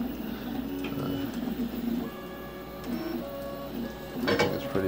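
A custom-built 3D printer with a cooling system runs steadily, its stepper motors whining and buzzing in shifting tones over a continuous low fan hum, with a sharper burst of movement near the end.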